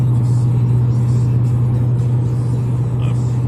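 Steady in-cabin rumble of a car driving home on a rural road, a constant low engine and road drone holding level throughout with no talk.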